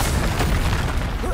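The Confringo spell explodes in Hogwarts Legacy as a dense, rumbling boom that fills the whole moment, loud and close, with a faint trace of voice in it.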